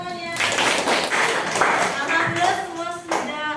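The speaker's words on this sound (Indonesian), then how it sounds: "tepuk tangan semuanya" A classroom of students claps together after a math lesson on converting degrees and radians, a short burst of scattered hand claps mixed with voices talking over it.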